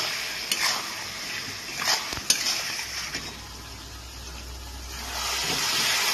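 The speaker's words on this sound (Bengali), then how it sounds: "মশলাটাকে আমি একটু ভালো করে কষিয়ে নেব" Ginger, garlic and green chili paste sautéing in a pan, a quiet hissing sizzle with a few clinks and scrapes of a spatula against the pan, close, the frying hiss strengthening near the end, no talking.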